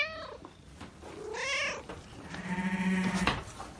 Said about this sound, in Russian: Эта любопытная кошка стала объектом внимания нескольких животных.